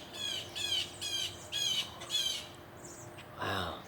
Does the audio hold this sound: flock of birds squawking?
yes